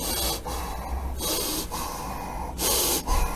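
Heavy, rapid breaths imitated by a voice, loud and close, in sharp bursts of inhaling and exhaling with brief pauses between.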